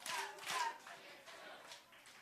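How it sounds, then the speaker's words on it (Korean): A group of children at a church Sunday school service clap twice in quick succession, fairly faint and roomy, followed by soft murmuring and a quieter stretch. "박수 두 번 시작"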